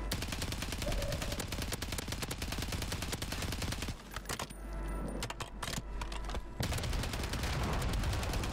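Rapid, loud gunfire in the Rebirth Island video game: dense bursts of shots crackle almost continuously, thinning briefly midway before resuming at full intensity.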